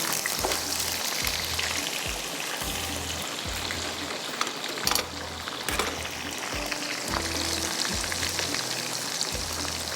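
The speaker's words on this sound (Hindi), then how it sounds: "जो हमारा चिकन अभी हमने इसको मैरिनेट करके रखा है वो भी हम इसको फ्राई करेंगे।" Marinated chicken fries in oil, giving a continuous crackling sizzle with bursts of spatter, close and fairly faint, under a repeating low thump; no one speaks.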